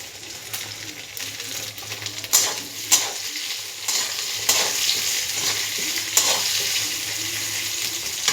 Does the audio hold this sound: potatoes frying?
yes